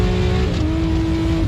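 A big black race truck drives past at an off-road 4x4 adventure park during the Loveday 400, its engine a loud, steady drone with a slight pitch shift as it goes by, close up and alone.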